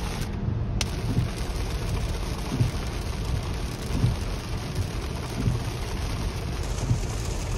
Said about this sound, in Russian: Сильнейший ливень идет.